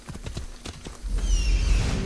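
A horse gallops in Assassin's Creed Odyssey, its close, rapid hoofbeats clopping in a quick rhythm before a louder rush of movement and a brief whinny-like tone.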